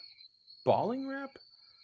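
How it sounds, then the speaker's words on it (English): A thin, steady cricket chirp drones faintly in the background while a voice speaks over it in the foreground. "the crickets are in your background"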